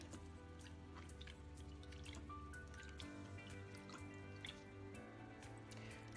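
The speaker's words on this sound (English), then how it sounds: "get yourself some warm water, and you can begin by just simply dipping" A lace sample is dipped into warm water, with faint dripping and small liquid plops over a quiet steady hum, the drops scattered irregularly and soft.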